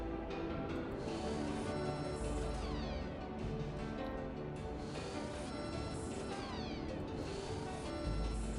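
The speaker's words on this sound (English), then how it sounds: "She's a lovely kitty." Repeated meowing from a pet cat in a home, loud and close, a steady string of cries with no talking.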